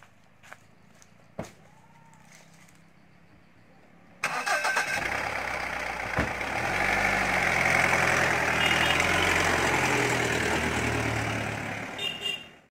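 After a few quiet clicks and knocks, a car engine abruptly cranks and catches, then settles into a steady, fairly loud idle that carries on before it cuts off at the end.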